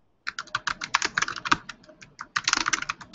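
Fast, irregular clatter of typing on a computer keyboard, close and clear, with brief pauses between bursts of keystrokes and no talking.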